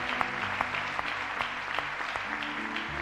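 Church congregation applauding during a French-language sermon, steady dense clapping from a crowd that holds at an even level for a few seconds, with faint voices mixed in.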